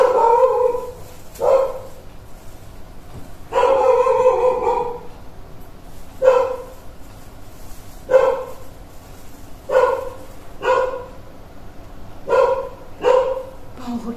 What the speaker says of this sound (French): aboie, je sais pas pourquoi, mais on va le laisser aboyer